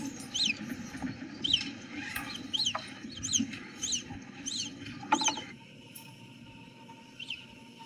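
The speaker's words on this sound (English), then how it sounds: "It's a cute kind of mouse-like little squeak, and then you see what that's coming from." Naked mole rats give repeated high, squeaky chirps in a quick irregular series, close and fairly faint over low rustling and shuffling.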